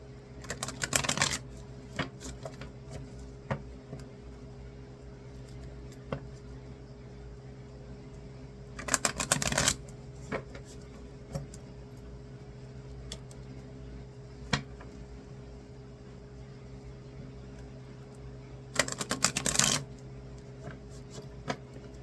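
Three short bursts of rapid riffling, playing cards being shuffled, spaced several seconds apart over a low steady hum and faint clicks.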